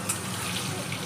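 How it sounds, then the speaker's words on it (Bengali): A paste of ginger, cumin, coriander, green chilli and tomato sautéed in a pan, giving a brief steady hiss of frying with a faint clink at the end. "ওই পেস্টটা এর মধ্যে দিয়ে ভালো করে কষাবো"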